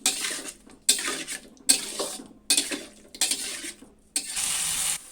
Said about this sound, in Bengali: আবারও মশলা দিয়ে ভালোভাবে কুমড়োগুলো ভেজে নিব।